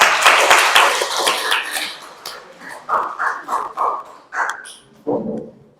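An audience claps in a short burst of dense applause, which thins after a couple of seconds into scattered separate sounds.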